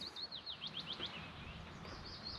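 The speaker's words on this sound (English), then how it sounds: "Birds are singing." Several birds chirp and trill in quick repeated phrases over a steady background rush of wind, fairly close and clear.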